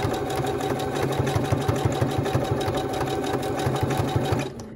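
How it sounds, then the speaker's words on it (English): A sewing machine runs steadily at a slower speed, stitching a decorative stitch along quilt binding, a continuous close mechanical whir with an even rapid needle rhythm that winds down at the end. "I can also play with the speed of my sewing machine here"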